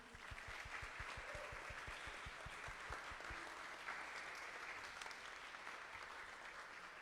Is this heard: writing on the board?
no